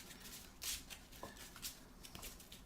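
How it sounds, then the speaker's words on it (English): A deck of game cards gets a brisk shuffle at close range, with soft riffling bursts and a few sharp flicks over about three seconds, no voices. "Give it a good shuffle."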